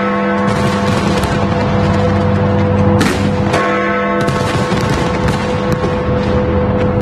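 Sydney's New Year fireworks over the harbour by the Harbour Bridge and Opera House, a loud continuous wash of booms, crackles and bursts with a sharp cluster of explosions midway, heard from nearby.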